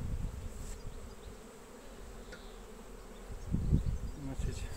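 Honey bees buzzing over a brood frame of emerging young bees in an apiary, a continuous low droning hum with a few louder passes of individual bees flying close.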